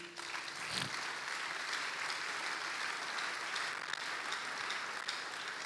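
Church congregation breaking into sustained, dense applause throughout, loud and steady with no talk over it.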